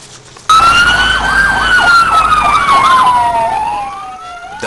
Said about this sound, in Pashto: د امبولانس غږ چې په ډېرو دغه راز امنیتي پېښو کې اورېدل کېږي.